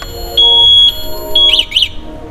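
A Tiranga Vyom electric scooter's alarm beeps after the scooter is touched: loud, piercing electronic tones repeat in a broken pattern, then end with a pair of quick chirps.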